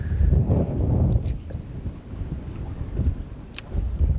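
Strong wind buffets the microphone while fishing with lures, a loud rumbling roar that gusts and eases throughout with no talking.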